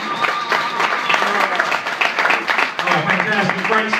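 Applause from an audience at a live comedic holiday reading event, a continuous wash of clapping with voices and chatter mixed in throughout.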